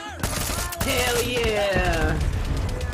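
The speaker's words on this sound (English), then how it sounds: "I'm getting shot from behind." Rapid automatic gunfire bursts from the video game Far Cry 6 co-op campaign, dense and loud, mixed with game music and sound effects, while players talk over it.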